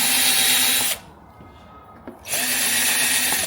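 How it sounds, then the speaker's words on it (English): Power drill pre-drilling screw holes in the plastic of a switch panel during a campervan fit-out, a loud steady whine that runs for about a second, stops for over a second, then starts again and holds to the end. "that's why I'm pre-drilling it"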